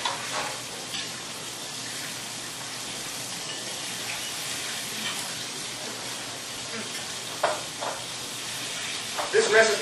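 Red snapper fries in hot oil with a steady, close crackling sizzle like light rain, broken near the end by a few louder pops and spatters.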